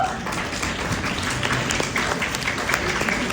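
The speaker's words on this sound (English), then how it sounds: "Big round of applause for Biraj." Applause from the audience at a refugee community gala, a full, sustained round of clapping with crowd noise mixed in.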